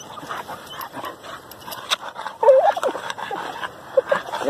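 A dog whimpers and yips right after digging an armadillo out of the ground, high whines and short cries close by, with faint voices in the background.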